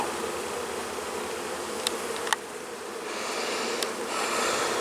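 Honey bees hum in a dense, steady buzz during a routine inspection of a crowded hive, with a few close passes of individual bees and faint handling clicks, no talk.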